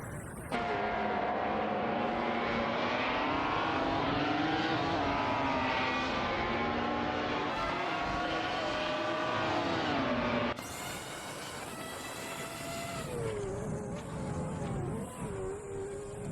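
Race car engines in a racing video game, including a McLaren MP4-21 and a Spyker M16, whine and shift pitch continuously, loud and close, with a change of engine tone partway through.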